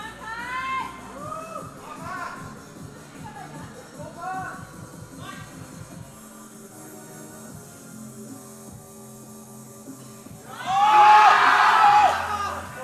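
Crowd at a Canadian powerlifting championship in Moose Jaw, Saskatchewan, breaking into a loud burst of cheers and whoops for a couple of seconds near the end, over background announcer talk and a music bed.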